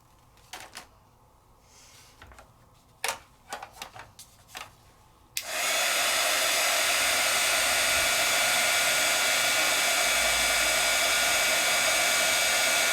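A heat tool switches on partway through and blows a loud, steady roar over craft paste and rub-on transfers, after a few light taps and handling clicks.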